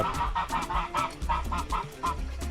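Guinea fowl calling loudly at close range on a farm in the early morning, a rapid run of harsh rhythmic honking cries repeating without pause.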